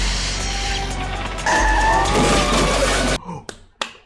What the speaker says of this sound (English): We're about to see gadgets and a car chase